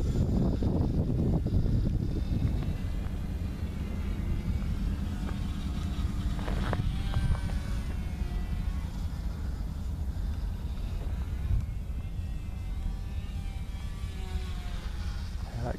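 Guillows P-40 RC model plane with a 9-gram electric motor on 2S power, flying outdoors; a steady motor drone runs continuously through the flight, mixed with wind noise, with no talk.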